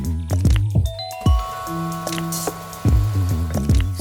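Spinach and ricotta cheese filling for cannelloni being stirred in a pan, wet squishing and sloppy smacks in uneven strokes close by, with a few light clinks and no talking.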